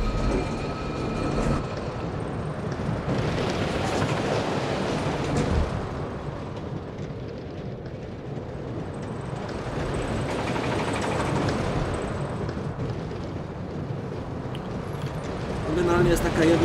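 A gentle roller coaster in Planet Coaster rolls along its track with a steady rumble and clatter of rail wheels that swells and eases, heard under someone talking.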